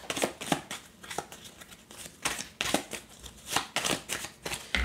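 Tarot cards are shuffled and drawn in repeated riffling bursts, each a crisp flutter of card edges heard up close and fairly quiet, with short pauses between rounds and no talking.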